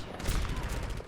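A single loud, close sniper rifle shot from the Overwatch video game, quickly followed by a short rattling burst of gunfire within about a second.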